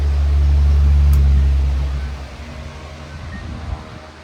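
A 2002 Patton U2-1403 box fan runs on medium speed, giving a loud, steady low hum up close that eases off to a softer whir after about two seconds.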